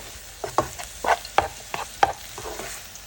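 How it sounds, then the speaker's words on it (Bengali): Two eggs stirred and fried in a frying pan among vegetables, a soft sizzle beneath repeated scraping strokes of a utensil, about six distinct stirs in quick succession, close and clear with no talking. "ফ্রাই প্যানে মাঝখানে দিয়ে দিলাম দুইটা ডিম দিয়ে ভালোভাবে নেড়ে ডিমগুলোকে বেজে নিচ্ছি"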